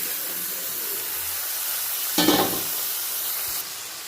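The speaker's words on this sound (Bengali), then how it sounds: "এখন আমি দিয়ে দিচ্ছি এই কুচু করে রাখা চিকেনগুলো।" Minced chicken drops into a pan of spices being fried for chicken keema, giving a sudden loud sizzling burst over a steady background hiss that fades back down.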